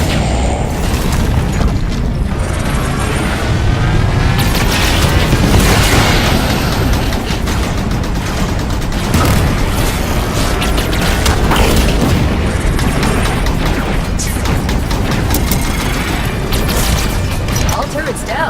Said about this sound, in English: Fire from those turrets!